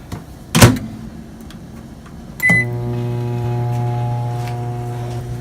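Microwave oven heating ground beef: a sharp door thump, a short beep, then the steady low hum of the running oven, close and alone.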